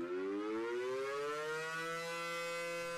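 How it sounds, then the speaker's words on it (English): An air raid siren winds up and wails, its rising tone sweeping steadily upward and sustaining, loud and alone with no voices. "Hundreds of air raid sirens wailed through the still night air"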